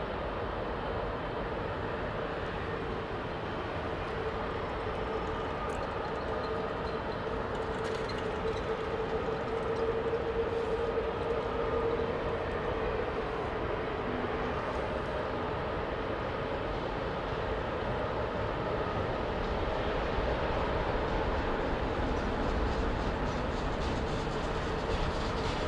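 A steady, broad roar from an airliner landing at Heathrow Airport on a calm summer solstice day holds evenly at a distance for the whole stretch, without breaks.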